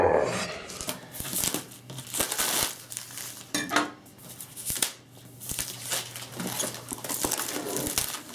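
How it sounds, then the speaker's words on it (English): A pizza cutter rolls and saws through the packaging of a 2010 MacBook Air 13.3-inch box, giving a series of close, scratchy cardboard-and-plastic scrapes, crinkles and tearing bursts with brief pauses between strokes. "Let's see if the pizza cutter will work now."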